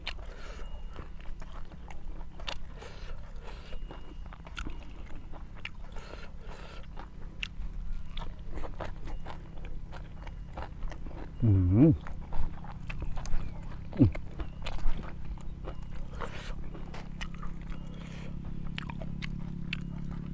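Close, wet biting and chewing of Wichian Buri-style grilled chicken with papaya salad, eaten outdoors by a rice field, with repeated crunchy bites and smacking mastication over a faint background murmur.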